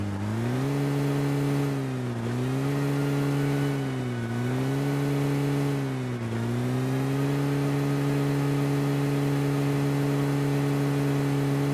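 A car engine in PUBG Mobile drones steadily at mid pitch, dipping briefly three times as the driver eases off and re-accelerates, then holding a constant whirring hum.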